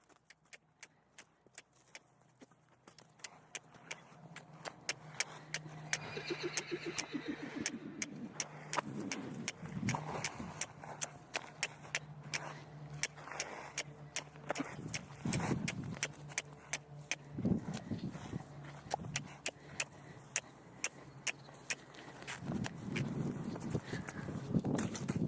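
A mare named Brazil being led toward a trailer, her hooves clip-clopping in an uneven walking rhythm, close and fairly quiet, with faint rattles and handling noises around them.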